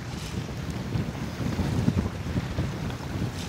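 Wind buffeting a fishing boat out on open water, a continuous rough rumble and gusty roar with faint water wash, loud and steady with no talk.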